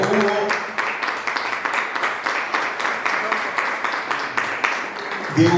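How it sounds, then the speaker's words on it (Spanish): An audience gives sustained applause to welcome councilman Diego Murillo at a political and economic forum, a continuous crackle of many hands at moderate loudness that fades near the end. "Fuertes los aplausos, por favor, para recibir al concejal Murillo"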